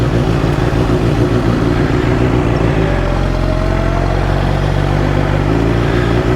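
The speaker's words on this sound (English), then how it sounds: "I think he's idling just a little high" A nearby Suzuki GSX-R 1000 motorcycle engine idles slightly high, a steady, low, even putter, its pitch settling slightly lower partway through.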